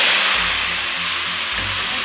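Fried onions hit hot oil while beef haleem is being cooked, a loud, steady, broadband sizzling hiss that stays close and continuous with no talk over it.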